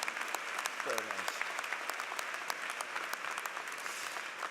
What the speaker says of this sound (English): Give the country a round of applause.